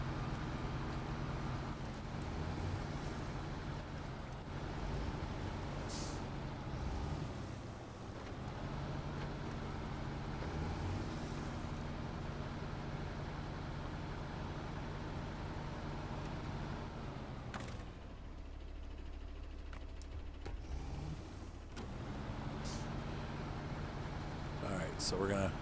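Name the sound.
rescue truck driving in SnowRunner video game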